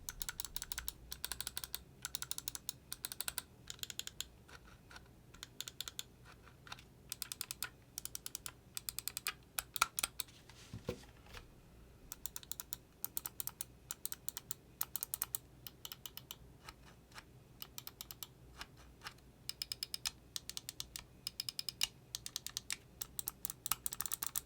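Rapid crisp clicking from the buttons of Glorious Model O- and Model D- wireless gaming mice, dense irregular bursts of clicks that are close but fairly quiet, with no talking.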